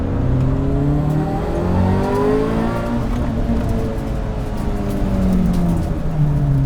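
A car running on E85 fuel being driven, its engine droning and rising in pitch as it accelerates through the gears, heard from inside at a loud, steady level.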